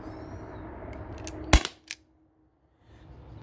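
A T4E HDP50 Gen2 CO2 pistol fires once through a chronograph on a cold day with a low CO2 tank, a single sharp crack followed by a brief metallic click, then quiet.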